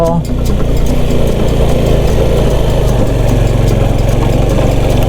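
Car engine pulling steadily in first gear while climbing the mountain road between Suan Phueng and Khao Krachom, a continuous loud mid-low drone that holds throughout without letting up.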